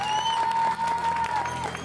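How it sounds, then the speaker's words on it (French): Spectators at a criterium cycling race in Saint-Amand-les-Eaux clap for the three riders on the podium, a short outdoor burst of applause with a sustained whistle-like tone over it. "Merci de les applaudir tous les 3, c'est le podium que vous avez là"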